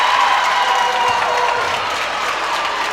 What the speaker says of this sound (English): Loudest cheer of the day from the Rockets fans below us.